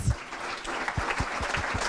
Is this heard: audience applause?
yes